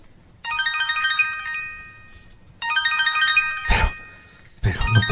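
A mobile phone rings with an incoming call, its bright electronic melody playing in two bursts separated by a short pause. A brief louder clatter follows near the end.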